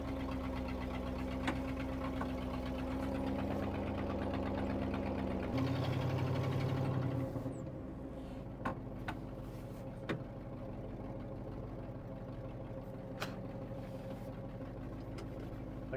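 A neglected 1968 Ford F350 Bumpside truck's engine drones steadily in second gear, a loud low rumble that rises in pitch briefly, then settles into a lower steady run with occasional knocks and clunks.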